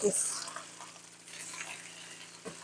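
Squash slices fry and brown in a pan with a soft, steady sizzle under a low hum, a few faint clinks of a utensil, fairly quiet and close.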